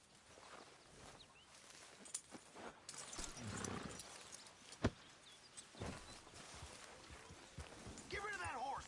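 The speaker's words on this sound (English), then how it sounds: "Get rid of that horse." Horse hooves clip-clop quietly in the Red Dead Redemption 2 video game, scattered steps and snorts mixed with a sharp knock and faint birdsong, while people talk softly at a distance.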